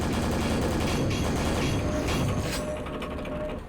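Super nail gun (perforator) firing in the Quake video game mod Copper, a rapid, continuous mechanical rattle of nail shots that stays loud and dense before easing slightly at the end.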